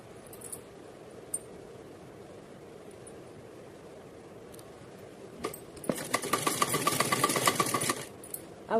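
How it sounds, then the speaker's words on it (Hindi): A sewing machine stitches gota lace onto fabric for a Radha Rani outfit, starting after quiet handling clicks and then running in a rapid, steady burst of needle strokes for a couple of seconds, fairly close, with no talk. "तो चलिए इस पे सिलाई लगाते हैं।"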